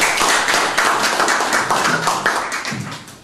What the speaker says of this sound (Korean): 큰 박수로 환영해 주실 거예요.